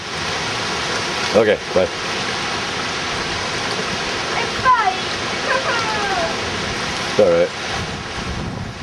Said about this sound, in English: Oh, comes the wind and the rain.